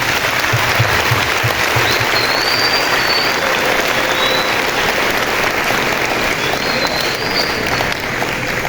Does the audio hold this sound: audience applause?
yes